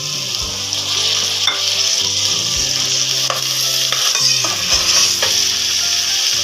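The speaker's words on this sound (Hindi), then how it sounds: "अब इसमें डाल देंगे 1 बड़ा टमाटर जो कि बारीक चॉप कर लिया है।" Finely chopped tomato sizzles loudly in a pan of capsicum and potato for an Indian masala aloo shimla mirch sabzi, a steady close frying hiss with a few stirring clicks and scrapes throughout, no voices.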